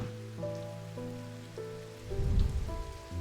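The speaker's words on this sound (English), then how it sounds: "it's going to feel warm and tingly because it's currently raining outside" Rain falling outside in the video game Strange Antiquities, a soft steady patter that swells briefly, beneath a calm sustained musical tone with gentle note changes.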